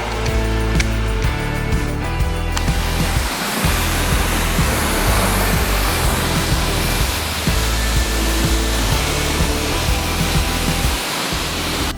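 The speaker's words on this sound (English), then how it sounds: "Just give it a quick rinse with a regular nozzle." A garden hose with a regular nozzle rinses a watercraft in a steady, loud, close wash of spraying water, a continuous broadband hiss with low splashing, and no talking.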